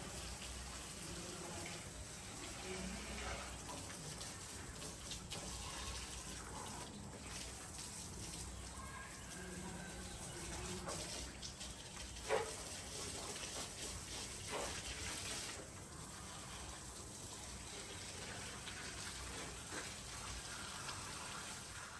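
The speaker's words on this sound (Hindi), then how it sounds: "मैंने पढ़ाई से थोड़ा ब्रेक लिया और नीचे गई पौधों में पानी डालने के लिए।" Water runs steadily from a tap or hose while plants are watered at home, a constant rushing flow with a few brief clunks, continuing alone without talk.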